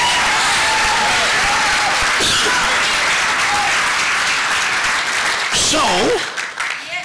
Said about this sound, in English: Somebody give the Lord a hand clap of praise